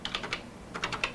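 Keys clacking on a Color Computer keyboard, about ten quick, light taps in two short runs separated by a brief pause, close and clear with no talking.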